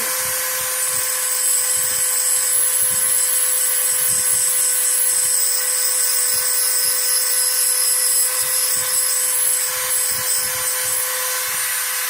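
A Dremel rotary tool grinds the edges of a thin glass piece during flintknapping, producing a steady high-pitched whine with a constant drone, close and loud, with small shifts as the bit presses against the glass.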